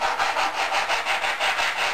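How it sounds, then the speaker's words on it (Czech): Abrasive mesh rubbed back and forth over a model aircraft wing, an EPA-category air-combat model, giving steady rhythmic rasping strokes about four per second, close and moderately loud with no talk. "A já používám bruslovou mřížku, protože dobře brousí."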